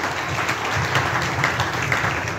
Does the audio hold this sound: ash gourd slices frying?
no